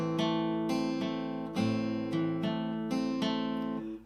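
Acoustic guitar plays the bridge bar of a song, a picked fingerstyle pattern with several clear plucked attacks in a steady rhythm, close and moderately loud, with no voice.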